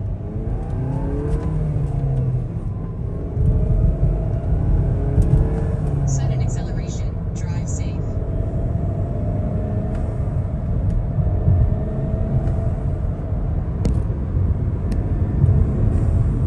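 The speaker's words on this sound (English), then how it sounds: "we'll see what the turbo sounds like stock" A stock-turbo VW Golf Alltrack MK7 pulling hard through first, second and third gears, a loud rising engine drone that drops at each shift, heard from inside the car under a steady rumble.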